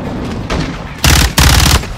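Two loud, close bursts of automatic gunfire in Call of Duty: Modern Warfare II, set in a Gulf of Mexico mission, preceded by fainter shots, each burst a rapid rattling volley lasting about a third of a second.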